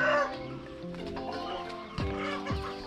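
Fighting chickens in a Thai chicken coop cluck nearby in a murmuring, irregular stream with a couple of sharper calls near the end.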